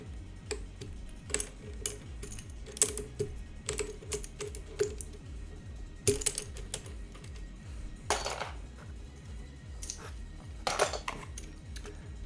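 Keycaps being pulled off a mechanical keyboard with a keycap puller, giving quiet, irregular plastic clicks and sharper snaps scattered throughout, close up with no talking.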